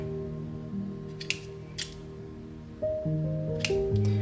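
Scissors snip through crochet yarn in a few short, crisp cuts spread across a few seconds, set against a steady low background hum with no talking.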